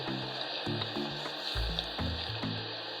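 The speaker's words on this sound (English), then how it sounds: "Rolling like this gives it a very good frying time and makes it turn crispier." Thin homemade potato chips frying in hot oil give a steady bright sizzle and crackle, with low knocks from stirring or rolling the batch underneath.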